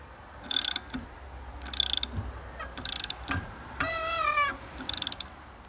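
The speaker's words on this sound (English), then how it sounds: "And now to thread the shaft." Threading a propeller shaft for a 1939 Larson Utility boat electric conversion gives repeated bursts of metallic ratcheting clicks with brief pauses between strokes, plus one longer whining scrape partway through, close and clear.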